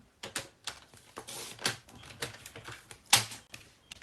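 Paper card being cut for a pop-up card, a series of close, crisp snips and crunches coming in irregular bursts with short pauses between them.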